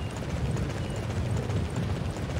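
Horse hooves gallop in a steady, dense drumming from the action game Dynasty Warriors 9 Empires, close and continuous with a low rumbling tone and no pause throughout.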